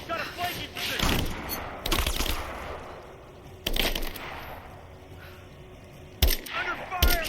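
Several loud bursts of gunfire ring out in a Rise of the Tomb Raider battle, sharp volleys spaced a few seconds apart with quieter combat ambience between them.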